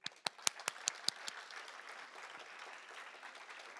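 Quiet audience applause for Rebecca, opening with a handful of sharp, distinct claps that soon blend into a soft, steady patter which continues faintly to the end.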